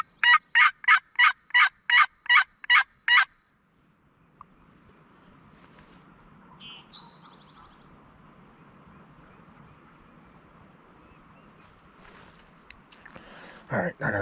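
A wild turkey hen in steep Tennessee woods gives a rapid series of about eight loud, evenly spaced yelps, then a quieter stretch of faint bird calls and distant rustling, with a few louder sounds near the end.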